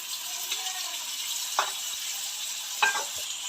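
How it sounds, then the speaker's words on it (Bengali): Chili paste sizzles steadily in a pan of potatoes tempered with cumin, with a couple of short scraping stirs breaking through the constant hiss. "এই তো মা এখন লঙ্কা বাটা দিয়ে দিচ্ছে"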